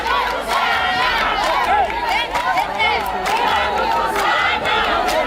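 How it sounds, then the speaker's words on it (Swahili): A large outdoor crowd at a road-works launch by the governor of North Kivu at Petite Barrière cheers and shouts, a loud, dense roar of voices with clapping, sustained for several seconds. "Makofi mingi."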